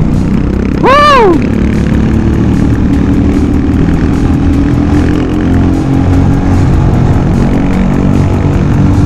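Royal Enfield Scram 411 motorcycle engine running steadily during a ride, a continuous loud drone with a brief rising-and-falling whine from a passing vehicle early on.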